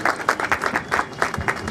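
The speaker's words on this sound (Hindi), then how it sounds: "बहुत ही शानदार, तालियां बजाइए।" Audience applause breaks out at a youth skills programme event in Bihar, a dense burst of many hands clapping in quick uneven rhythm, with a voice speaking over it.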